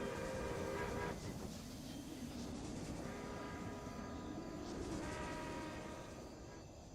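Trains in the Railway Empire video game, a continuous rolling rumble with layered horn and whistle tones rising and fading over a steady clatter, moderately loud and uninterrupted.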